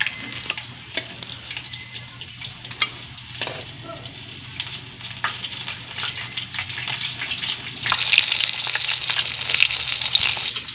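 Lumpia sizzle and fry in a pan while holiday dinner is prepared, a steady crackling hiss with occasional sharper pops and stirring scrapes. The frying grows brighter and busier toward the end, with no talk.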